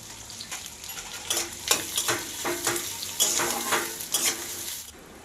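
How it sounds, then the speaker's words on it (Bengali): Whole garlic, chopped ginger and onion fry in hot oil for a chicken dish, a close sizzle broken by irregular stirring scrapes and clinks of a spoon in the pan, with no talking. "গোটা রসুন আর দেব কুচিয়ে রাখা আদা দিয়ে ভালো করে একটু ভেজে নেব"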